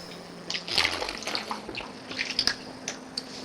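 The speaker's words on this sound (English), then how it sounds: "a quick drink of water" Water poured into a glass with soft splashing and trickling, then a few small sips and clinks, close and quiet, with no voices.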